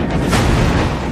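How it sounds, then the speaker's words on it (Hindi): Drone strike explosion on a Ukrainian armoured vehicle: a dense, loud blast rumbling across roughly a second with a broad roaring burst and no talking. "यहां भी धमाका होता है।"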